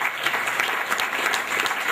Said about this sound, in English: let us give a big round of applause to Professor Samsila,